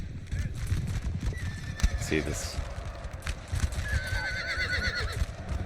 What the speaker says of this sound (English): manless horse just got shot, and he's gonna try and get away